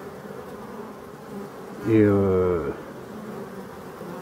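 Bees buzz at a hive entrance with hornets nearby, a steady low drone rising into one close, loud, harmonic buzz as an insect passes by the microphone, and a voice speaks briefly.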